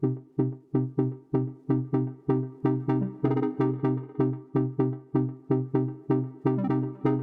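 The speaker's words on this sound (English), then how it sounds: "I want to start by showing you these two synth layers here that act kind of like the main driver" Two stacked Serum synth sounds in a deep house track play a bouncy, plucky repeating pattern of short notes in a steady rhythm, with no voices.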